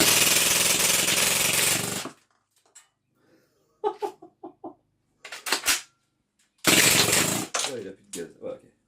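Legends MP airsoft gun on full auto, running out of gas, gives a loud continuous mechanical rattle for two seconds, then sputters in weak short bursts and one final longer rattle amid brief exchanges of talk.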